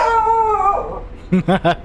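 A dog howls in a long, wavering tone that slides downward and fades, then gives a few short yips or whimpers close by. No one speaks.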